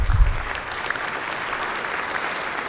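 Conference audience applauding in a hall at a network operators' meeting, even, sustained clapping from many hands after a brief low thump at the start, moderately loud throughout.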